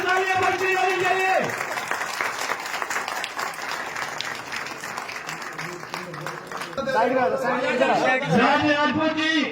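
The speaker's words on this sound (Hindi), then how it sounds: "जोरदार तालियां बजती रहनी चाहिए" Loud crowd applause and clapping at a village welcome ceremony for a BJP candidate, continuous through the clip, with crowd chatter and a tonal voice or music layer returning near the end.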